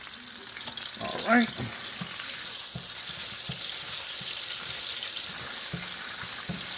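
Minced garlic sizzles steadily in a hot pan on a stove, a constant close hiss with a few light stirring knocks, and someone briefly speaks over it.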